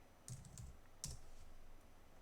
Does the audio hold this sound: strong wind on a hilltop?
no